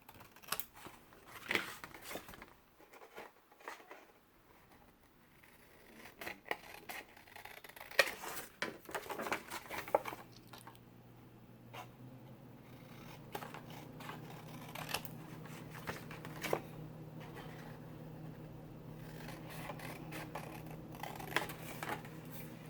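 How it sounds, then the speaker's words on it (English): Scissors cutting paper while making a paper purse gift bag, a series of faint, close snips and crisp rustles spread across a quiet room with no talking. "I'm going to cut this part off."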